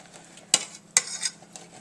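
A spoon scrapes through green apples and pork in a pan, two sharp stirring strokes over a soft steady sizzle.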